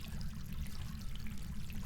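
Running water from a bathtub tap in the Phasmophobia game, a steady low rushing stream with constant trickling texture, close and unbroken.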